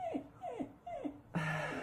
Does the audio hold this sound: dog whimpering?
yes